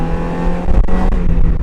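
A Mazda Miata's engine revs and accelerates up close, a loud low rumbling roar that builds steadily through the short burst, with no talk.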